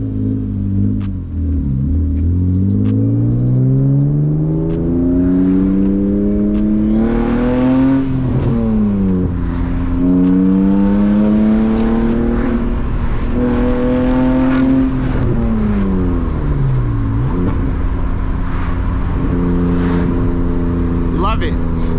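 A manual BMW E36 driven hard through hilly roads, its engine loud and close as it revs up through several gears, the pitch climbing and dropping sharply at each shift in repeated waves.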